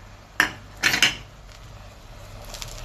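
A utensil scrapes and clanks against a cooking pot while garlic and spices are stirred, making a few sharp metallic knocks and scrapes close by, with a quiet background between them.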